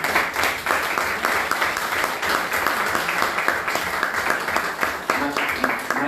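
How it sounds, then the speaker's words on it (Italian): An audience claps at a press conference presenting a festival, sustained lively applause with scattered individual claps and some voices mixed in beneath it. "qui un applauso particolare lo vorrei fare ai fratelli Campino, Riccardo, che è qui presente, ed Enza."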